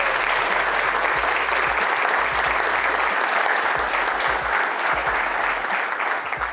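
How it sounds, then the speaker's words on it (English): A lunch audience at a community luncheon gives a sustained, dense round of applause that holds steady throughout, with no talk over it. "The biggest round of applause for them."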